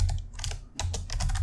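Brisk, close keystrokes on a computer keyboard while text is entered in Inkscape, a rapid uneven clatter of keys with short pauses and no speech.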